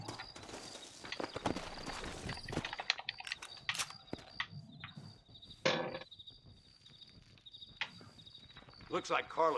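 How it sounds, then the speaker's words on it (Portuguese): Horses' hooves clip-clop in the Red Dead Redemption video game on Xbox One, in scattered irregular steps over faint insect chirps, with voices talking at times. "Looks like Carlos left us some horses."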